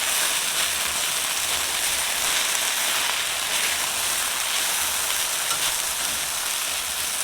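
Okra and potatoes fry in a pan with a constant bright sizzle and crackle that stays steady and close throughout. No talking is heard.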